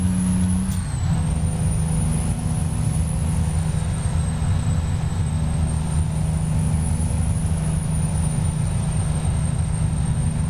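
A truck engine in American Truck Simulator drones steadily and loudly, with a brief dip and shift in pitch near the start, then a continuous rumble with a high whine above it.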